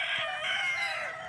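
Chickens clucking inside a coop shelter at a relative's farm, with a continuous, fairly loud layer of overlapping fowl calls and clucks that stays steady throughout, with no talking.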